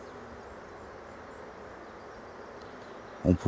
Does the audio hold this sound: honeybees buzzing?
yes